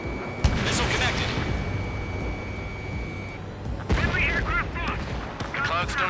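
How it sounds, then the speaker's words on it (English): Missile impacts and explosive booms against an aircraft in the Ace Combat 7 flight combat game, with a sharp blast near the start and another around four seconds, over constant jet engine roar. "Missile connected."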